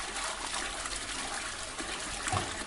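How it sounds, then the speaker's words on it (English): A toilet flushes in the horror game Portrait of a Torn with a steady, moderately loud rush of water that holds for a few seconds. A small gurgle comes near the end, with no talking. "let's flush the toilet"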